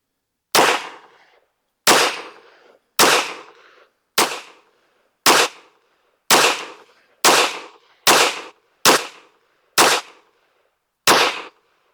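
Smith & Wesson M&P 22 Magnum pistol fired on a range, eleven sharp, loud, close shots at a slow, slightly uneven pace, each with a short decaying tail and silence between.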